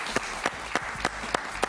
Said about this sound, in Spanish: un aplauso para Manolo